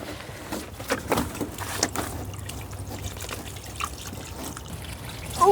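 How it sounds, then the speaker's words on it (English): Garden watering can sprinkling water over courgette plants, a soft uneven trickle and patter of droplets landing on leaves and soil, fairly quiet and continuous. "Let's give these a water with the watering can."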